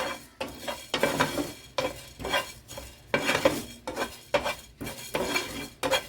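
Coriander seeds dry-roasting in a pan, stirred with a metal spoon in repeated bursts of rattling, scraping and clinking over a faint sizzle, close and moderately loud, with no voices.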